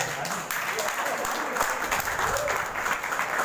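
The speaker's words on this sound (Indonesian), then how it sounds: "Terima kasih tepuk tangan untuk kita semua." An audience at a Maulid celebration night at an Islamic boarding school applauds in a steady, dense wash of clapping, moderately loud throughout.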